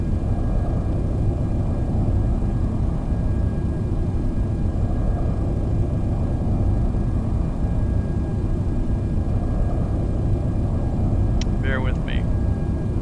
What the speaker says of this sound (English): That was an American plane taxiing behind us